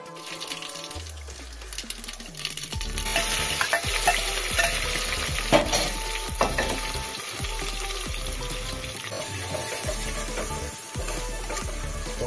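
Tadka spices sizzle in hot oil for a jimikand (elephant foot yam) dish in a Himachal village kitchen, with steady close frying and repeated scraping stirs of a spoon in the pan.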